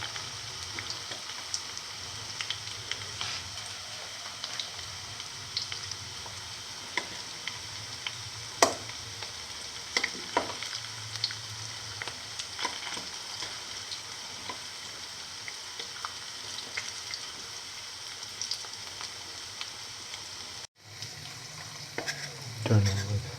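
Cottage cheese and fenugreek leaf fritters fry in hot oil with a continuous crackling sizzle, broken by occasional scrapes and stirs of a spatula, close by and with no voices, until a brief cut near the end.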